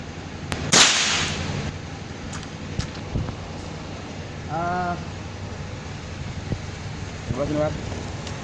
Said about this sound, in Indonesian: Itu adalah tembakan pertama.